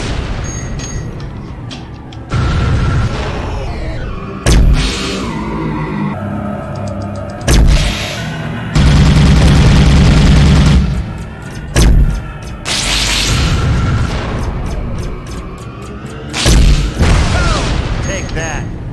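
Weapons fire in the space combat game Tachyon: The Fringe: repeated heavy booms and blasts in irregular bursts, some long and loud, mixed with a voice talking.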